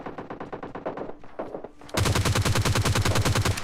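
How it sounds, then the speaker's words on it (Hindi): Automatic gunfire in the game PUBG Lite, with rapid bursts at close range: a lighter volley of shots, then a louder sustained string of evenly spaced shots with no pauses. "क्लोज में भी कुछ गन साउंड्स आ रहे हैं"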